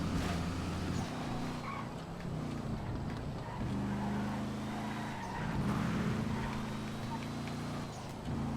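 Glendale car driving in GTA FiveM, its engine droning steadily with pitch rising and falling as it accelerates and shifts, close and continuous, with a voice talking over it.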